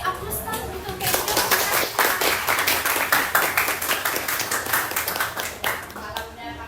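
A classroom of students applauding a classmate named Jo, a lively burst of many hands clapping that swells and then trails off, with a few voices mixed in.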